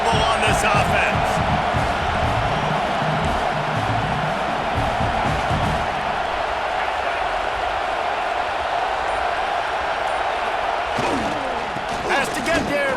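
A roaring stadium crowd fills a fourth-down play in the video game EA Sports College Football 26. The dense, loud wash of cheering and noise holds steady, with game commentary talking over it.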